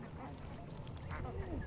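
White domestic ducks at a duck farm beside saline water quack in a faint, scattered chorus, with a voice speaking over them.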